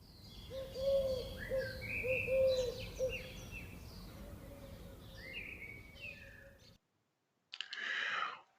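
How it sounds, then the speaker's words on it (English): Birds sing outdoors in a fairly faint mix of whistled phrases and chirps overlapping steadily. After a brief silence, a short louder burst of calls follows. "I listen to the birds."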